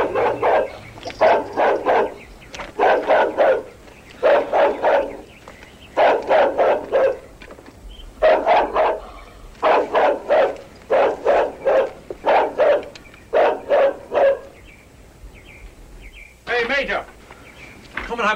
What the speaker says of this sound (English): We mustn't have a barking dog